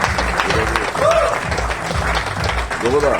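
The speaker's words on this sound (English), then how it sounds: "Can we just give a dynamic round of applause to Christopher over here for such a powerful presentation" Applause from a seminar audience honouring a speaker after a powerful presentation, steady clapping across the whole span with voices talking and calling out over it.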